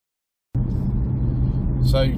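A 2017 BMW 420i M Sport drives along with a steady low engine and road rumble that starts abruptly and holds at a constant level, with a brief brighter noise near the end.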